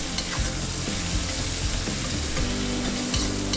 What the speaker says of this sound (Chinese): 炒到边缘有一点点焦边才好吃